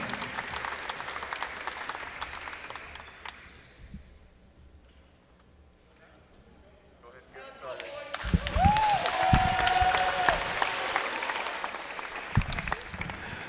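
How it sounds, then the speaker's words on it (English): Home crowd at a high school varsity boys basketball game in a gym applauding athletes and cheerleaders, loud sustained clapping that dips to a quieter lull mid-way, then swells again with cheers, a ball bounce and an announcer's voice. "let's give our athletes and cheerleaders a big round of applause"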